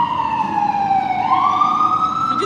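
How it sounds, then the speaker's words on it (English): Police car siren at a night market in Harlem, New York City, a single loud wailing tone sliding down and back up, fairly near and heard alone over a faint street background. "The police car is coming"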